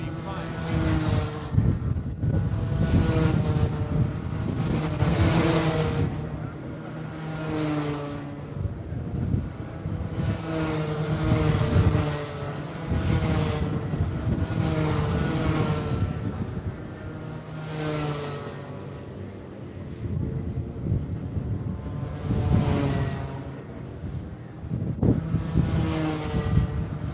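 Rotax Micromax karts racing through official practice at the Rotax Max Challenge Asia Festival, engines buzzing steadily with repeated rising and fading passes as karts sweep by, amid wind noise and no talk.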